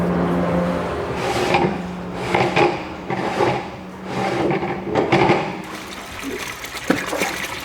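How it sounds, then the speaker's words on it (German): Wooden red-wine barrique barrels are turned in a cellar after racking, giving loud, close rumbling rolls with hollow knocks and some liquid sloshing, repeating in waves. "Ich drehe die Fässer jetzt."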